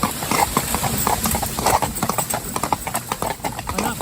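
A horse's hooves clip-clop steadily while it pulls a carriage along a hard surface, the beats close and fairly loud over a constant background hum.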